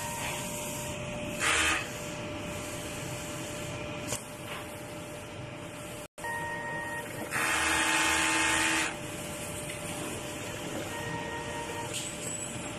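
A large-format printer runs a print head cleaning cycle: mechanical whirring and sliding with brief pumping bursts, a short gap, then a longer louder stretch of motor noise in a workshop with a steady hum underneath.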